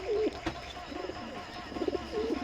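A pair of pigeons offered for sale at a home loft coo in short, throaty bursts, close and clear, with a pause between calls and faint background noise.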